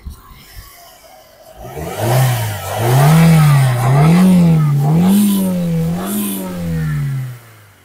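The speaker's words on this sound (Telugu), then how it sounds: "మీరు ఇక్కడ ఇంజన్ సౌండ్ చూడొచ్చు." A 2014 Chevrolet Sail petrol car in excellent condition, with about 30,000 km on it, idles and then revs up and down repeatedly in several smooth, wavering swells, loud and close, before settling back.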